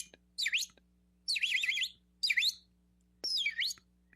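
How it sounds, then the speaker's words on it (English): Birds chirp in four short, bright bursts of twittering song, clear and close, over a faint steady low hum, with no talking. "We hear birds."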